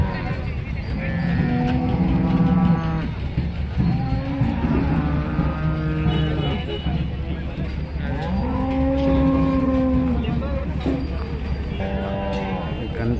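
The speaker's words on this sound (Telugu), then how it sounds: "కనిపిస్తున్నాయి అన్ని ఆవులే అన్న, ఈ నుంచి అక్కడ వరకు" Cows and buffaloes at a busy cattle market in Sardar Nagar, several loud drawn-out moos and lowing calls repeating one after another over a constant crowd murmur, with people talking nearby.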